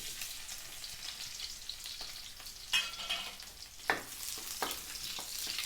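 Onion and garlic sauté in a pan with a soft continuous sizzle, broken by several scraping stirs and a couple of louder clatters of the utensil against the pan.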